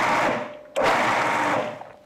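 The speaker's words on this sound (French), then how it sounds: "Donc au début je mets à mixer et ensuite je pulse." A Lamant S food processor blends and pulses raw vegan chocolate cake base ingredients, a loud whirring motor that drops briefly before a sharp restart for a second burst.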